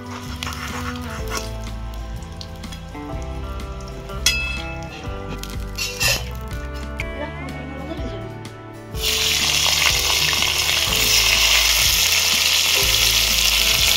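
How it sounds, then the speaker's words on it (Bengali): Flat beans frying in hot oil for a Bengali fish curry with cauliflower, a steady sizzle with clinks of a spatua and stirring, growing into a louder, brighter hiss partway through as more goes into the pan. "এবার শিমগুলোকে ভেজে নেব।"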